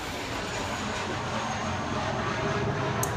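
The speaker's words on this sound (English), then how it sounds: "that was an airplane" An airplane passes overhead near an airport as a steady, loud broadband roar that fills the whole clip without letting up.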